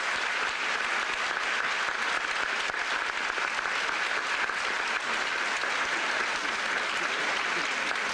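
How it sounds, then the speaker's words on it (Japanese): A hall audience in Shimabara gives sustained, loud applause to send off speaker Nakamura, thick even clapping filling the whole stretch without a break. "中村先生を盛大な拍手でお送りいただきますよう"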